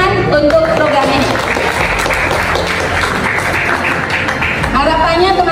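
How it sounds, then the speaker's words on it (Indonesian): Crowd applause at an outdoor political rally for a politician in Indonesia, steady and dense throughout, with voices and shouting mixed into the clapping. "Tepuk tangan untuk program ini"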